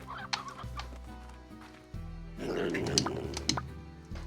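Chickens and roosters clucking in the video game Slime Rancher, several short close clucks and squawks over a soft game music hum.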